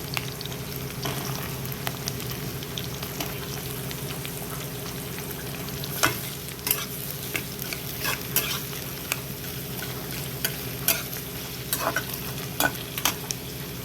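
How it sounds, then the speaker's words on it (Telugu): Green chillies and then onions fry in a hot pan for a gonguura chicken dish, giving a steady, close sizzle with scattered crackles and pops, plus occasional stirring clicks throughout. "ముందుగా పచ్చిమిర్చి వేసేసుకుందాము. ఇప్పుడు ఉల్లిపాయలు వేసుకుందాము."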